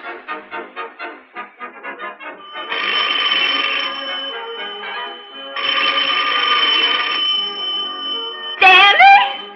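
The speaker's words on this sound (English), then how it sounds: "The phone is ringing." An old telephone bell rings in two long bursts with a short pause between them, loud and close, in a 1930 Laurel and Hardy comedy scene, and a brief voice follows at the end.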